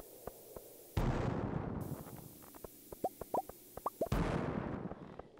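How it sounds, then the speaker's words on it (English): Cherry bombs go off in Stardew Valley, two broad muffled blasts a few seconds apart, with a scatter of short popping plops and soft thumps between them, fairly quiet and without talk. "I throw down a cherry bomb or two."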